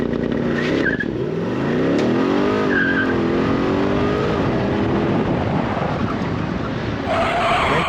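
Corvette C8 using launch control, loud engine roar with rising revs and tire squeal close by, sustained throughout with a brief shift of pitch near the end; no talk.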